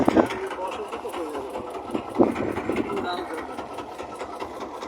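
A trawler boat engine runs steadily during a flood rescue of cattle and buffalo in deep floodwater, a low continuous mechanical hum under someone speaking.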